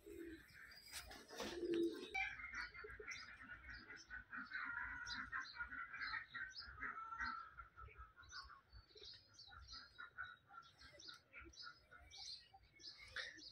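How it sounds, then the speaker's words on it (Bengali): Myna birds chatter nearby in a village setting, a busy run of chirps and calls rising and falling, with a brief low coo and faint background noise beneath. "শালিকের কিচির মিচির শব্দ"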